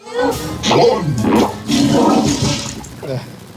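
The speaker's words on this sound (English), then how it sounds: "Already a toilet flush." A toilet flush sound effect from the party video game Quiplash 3 plays at close range, with people talking over and around it throughout.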